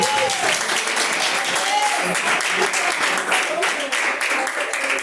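A church congregation applauds continuously, with steady dense clapping throughout and voices calling out beneath it.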